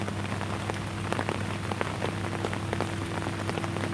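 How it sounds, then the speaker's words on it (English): Rain drumming steadily on a tarp sheltering a camper on a river canoe trip, a dense, close patter with scattered heavier drops over a constant low hum, and no voices. "Rain."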